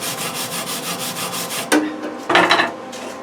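A brush scrubs a fresh weld on metal while a stud straightener tool is being built: steady, rhythmic rasping strokes, close and fairly loud, ending in a couple of harder scrapes.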